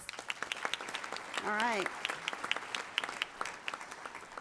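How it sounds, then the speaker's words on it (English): Scattered, fairly faint applause from a chamber of commerce audience honoring Swedish Match as Manufacturer of the Year, with a brief spoken voice partway through. "Can we give them a round of applause?"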